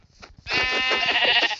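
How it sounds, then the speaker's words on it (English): A Minecraft sheep gives a single loud, drawn-out wavering bleat, close and clear, after a few faint soft sounds. "Oh, a sheep."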